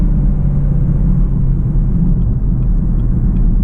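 Chevrolet Camaro V6 1LE driving at night around Charlotte, a steady low engine rumble with road noise continuing throughout, close and fairly loud.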